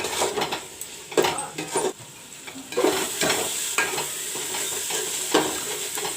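Browned masala for mutton jhol fries in a pan, giving a bright sizzle. A spoon scrapes and clatters against the pot in repeated strokes, close and fairly loud.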